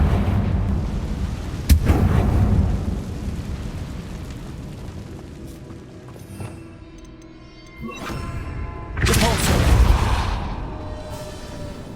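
Confringo blasting spell explosions in Hogwarts Legacy, with a sharp blast near the start, a quieter rumbling stretch, and louder booming bursts toward the end, free of talk.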